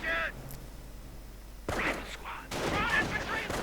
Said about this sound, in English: Sniper pretty much getting a hit with every shot.